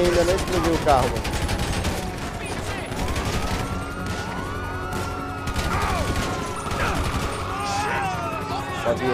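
Automatic weapons fire in a GTA 5 Online street fight on Xbox Series S, continuous close bursts with crashes and police sirens swooping underneath, and a player's voice speaking over the shooting.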